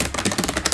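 Fast, crisp keystrokes on a white Logitech G915 TKL wireless keyboard with tactile low-profile switches, a dense close-up burst of clicks in quick succession.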